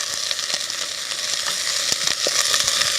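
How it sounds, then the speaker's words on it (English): Onions and shallots fry in a hot pan, a loud continuous sizzle with crackles and the scrape of stirring mixed in. "And we'll fry that until the onions have gone nice and soft."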